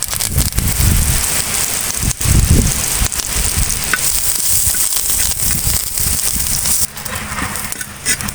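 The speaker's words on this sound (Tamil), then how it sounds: "இப்போ கருவேப்பிலையை நம்ம உள்ள போட்டுக்கலாம்" Curry leaves frying in oil in a pan for idli podi, a loud dense crackling sizzle with spoon stirring and scraping, close and continuous.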